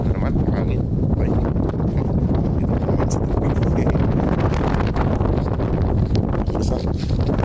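Strong wind buffets the microphone outdoors in a constant loud roar and rustle, with no distinct gusts standing out.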